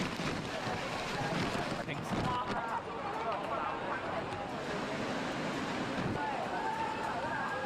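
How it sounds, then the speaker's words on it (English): Typhoon winds blowing hard through a Hong Kong street where pedestrians play in the gusts, a steady loud roar of wind buffeting the microphone for the whole stretch, with faint voices underneath. "These pedestrians have fun fooling around with the winds of a typhoon in Hong Kong."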